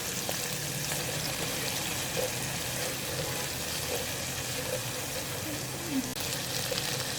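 Ginger garlic paste fries with browned onions in a pan, giving a steady dense sizzle throughout with faint stirring clicks.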